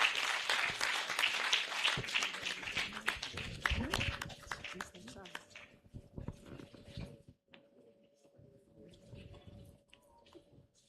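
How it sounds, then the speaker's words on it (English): An audience at a scientific conference opening ceremony claps for the chairman, a dense burst of clapping that thins out after a few seconds into scattered claps, with talk and a faint steady hum beneath. "I thought we wanted to clap for chairman."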